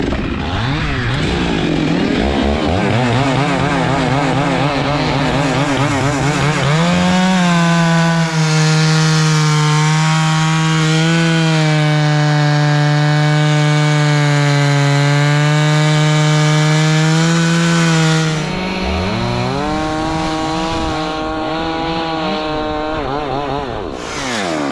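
Chainsaw cutting through a big pine tree, loud and close throughout, its engine revving up and down and then holding a long steady pitch under load while the chain bites into the wood.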